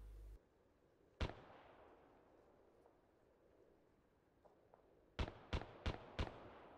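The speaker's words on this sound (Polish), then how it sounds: "O, strzelają." Distant gunfire in the video game Arma, with a single sharp shot followed by a quiet stretch, then four evenly spaced cracks near the end.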